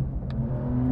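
Porsche 911 992 GTS with the Lightweight Pack, its engine revving hard under acceleration as a steady, loud, close mechanical drone, with one faint brief click heard over it.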